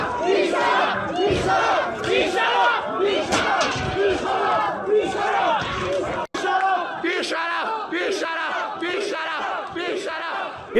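A large crowd at a street protest in Iran's Lorestan province chants slogans in loud, massed, rhythmic shouting that carries continuously from start to finish.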